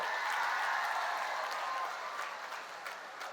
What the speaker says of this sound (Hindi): जोर से ताली बजाओ हेमांग जी के लिए सभी लोग